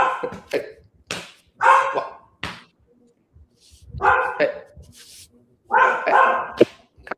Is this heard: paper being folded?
no